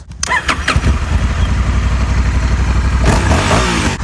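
A motorcycle engine cranks and catches, then settles into a loud, close, rumbling idle with a brief rev near the end.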